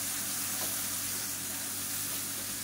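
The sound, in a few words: stir-frying boiled chickpeas with masala in a pan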